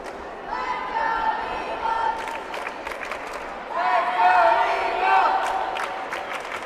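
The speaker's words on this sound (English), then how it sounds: "Nice crowd on hand here in Woodsboro." A nice-sized crowd cheers and chatters in a gym at a junior varsity high school volleyball game in Woodsboro, a steady murmur that swells louder in the second half with scattered claps and shouts.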